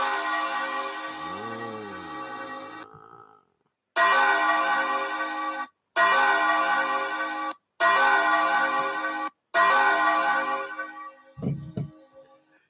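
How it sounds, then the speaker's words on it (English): A resonant bell sound effect rings out in five long, bright strikes. Each tone is cut off sharply and followed by a brief silence, and a short low rumble comes at the end. "Can you hear the divine bell again?"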